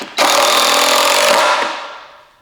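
A power drill drives a new screw into a DIY outboard motor engine stand, one loud close burst of about a second and a half that winds down quickly, with no talk.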